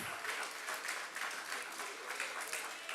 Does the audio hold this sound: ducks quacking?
no